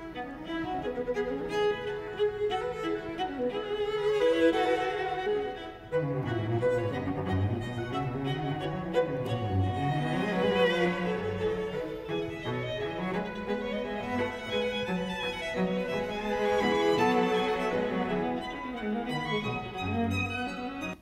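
Beethoven string quartet passage in fast imitative counterpoint on a folk tune, voices entering one after another with the same melody, dense and continuous bowed strings played at steady loudness throughout.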